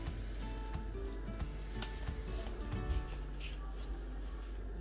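A steady bubbling rumble of water boiling in a pot for braised oxtail with lotus seeds, continuous and fairly close, with occasional light clinks and no talking.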